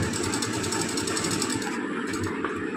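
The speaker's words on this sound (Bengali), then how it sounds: "মেশিনের সাহায্যে সেলাই করে নেব" An electric sewing machine runs a continuous fast, even stitching drone while sewing an open section of a blouse, loud and close, with a slight change in tone near the end.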